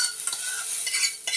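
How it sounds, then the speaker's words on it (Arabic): Rice frying in a pot for lentil soup is stirred with a utensil, giving a steady close sizzle with scraping strokes over about a second and a half, with no voices. "هنقلبه بقى ونسيبه يغلي كويس مع بعض"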